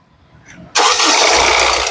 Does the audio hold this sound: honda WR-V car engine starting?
yes